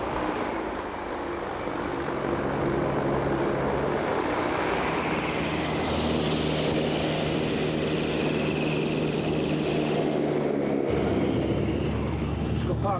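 A military assault hovercraft runs with a steady, loud roar of engines and fans, broadband wind-like noise holding constant throughout, with a low drone that drops away near the end.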